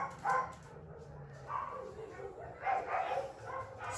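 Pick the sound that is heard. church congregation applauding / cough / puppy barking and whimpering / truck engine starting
puppy barking and whimpering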